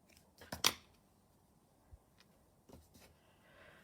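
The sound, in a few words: cutting off crochet yarn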